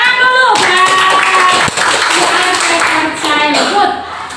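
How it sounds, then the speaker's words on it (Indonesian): Students clap together in a classroom at the end of a lesson, a loud steady patter of many hands lasting a few seconds with voices mixed in. "Tepuk tangan dulu."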